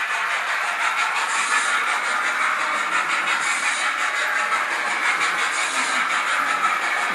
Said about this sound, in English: You can hear it sissing as it goes round.